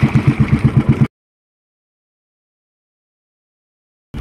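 A fishing boat motor chugs in a steady rhythmic pulse for about a second, then cuts to silence.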